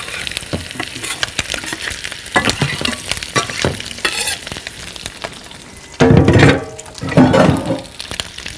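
Garlic sizzles and fries in oil while a spoon stirs through it, with scraping bursts and louder surges of sizzling close up, as part of preparing yellow lentil koshari.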